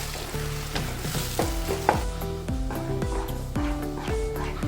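Ground jackfruit pulp sizzles and fries in ghee while it is stirred over and over, each stroke scraping in a steady rhythm over a constant low bubbling, close and moderately quiet.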